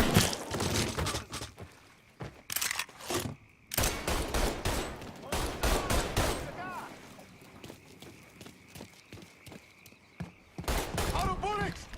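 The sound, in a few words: gunfire during target practice in the video game Mafia III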